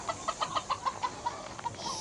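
Native chickens on a farm cluck in a quick run of about ten short calls, moderately close, over steady outdoor background noise.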